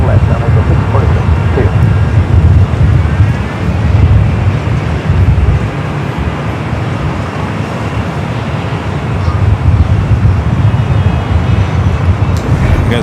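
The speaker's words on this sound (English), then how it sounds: "Next heavy arrival on the north side is on the pond, flight 106, 787-8 Dreamliner, coming in from Tokyo, Haneda." A Boeing 787-8 Dreamliner arriving from Tokyo Haneda and landing on runway 24 left at LAX, a steady low rumbling roar running throughout, with a voice talking over it.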